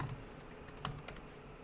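Java code being typed on a computer keyboard, a few quiet, scattered key clicks close by in an otherwise hushed room.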